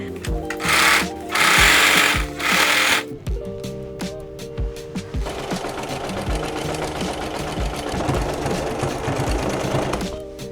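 A sewing machine stitches gathers on a dress, its needle hammering in fast, loud, steady bursts that stop and restart across the stretch.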